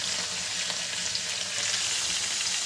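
Pieces of boneless chicken sizzling in a pan, a constant dense crackle up close with faint stirring scrapes and no talking.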